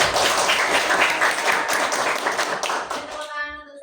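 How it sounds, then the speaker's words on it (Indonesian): A classroom group gives a dense burst of applause for a student named Saskia that fades out after a few seconds, followed by a brief voice. "Tepuk tangan untuk Saskia"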